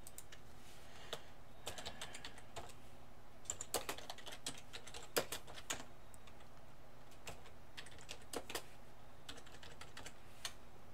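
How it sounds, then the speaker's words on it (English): Keys on a computer keyboard are tapped in quiet, irregular bursts of sharp clicks, with scattered short pauses between groups of keystrokes and no voices. "I was typing in just to see something"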